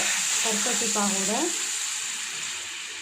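Palm jaggery syrup heating in a kadai on a stove, giving a steady close sizzle and hiss, with a voice speaking briefly over it.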